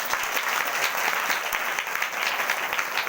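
A church congregation at a Hindi-language ministry service claps loudly and continuously, a thick crowd applause filling the whole moment without any voices on top.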